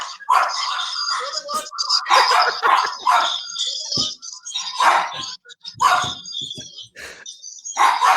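Excited dogs barking in a home as someone arrives, with repeated close, loud yapping barks in irregular bursts mixed with people talking.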